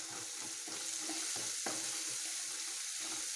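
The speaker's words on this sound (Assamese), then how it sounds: "এই গোটেই মছলাখিনি মই হলাই লৈছোঁ।" Ground roasted cumin and coriander seed powder sizzle in a hot pan while being stirred, a steady close frying hiss broken by quick scraping strokes, for a bitter gourd and jaggery dish.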